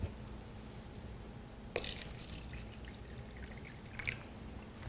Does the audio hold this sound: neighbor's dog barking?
no